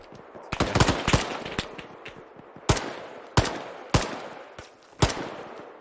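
Sustained automatic gunfire in Arma 3 combat, loud bursts and single sharp shots cracking in rapid clusters at first, then spaced heavy reports every second or so, with no talk over it.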